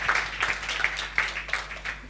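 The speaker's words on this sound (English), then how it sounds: "How about another round of applause for Soul Ladies?" Audience applause for the Soul Ladies ensemble, a steady wash of clapping with a few louder bursts, fairly close and continuous over a couple of seconds.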